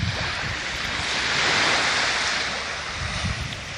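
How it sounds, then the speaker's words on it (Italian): Winter sea waves wash steadily onto the free beach at Catania, a continuous broad surf roar with a soft swell in the middle, touched by some wind rumble on the microphone. "qua c'è il mare d'inverno, la playa di Catania"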